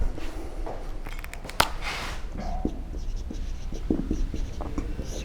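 A pen scratches across a paper map as a place name is written, close and dry strokes in short irregular bursts with a sharp tap partway through.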